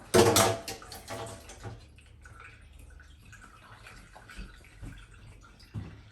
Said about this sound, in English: I'm actually going to fill up my sink with water and put the pot inside to cool it down faster.